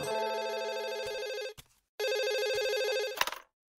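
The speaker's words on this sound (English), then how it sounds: "What took you so long to answer the phone today?" A cartoon telephone rings in two loud, bright electronic bursts separated by a brief gap, the second cut short by a clatter as the receiver is picked up, with no voices.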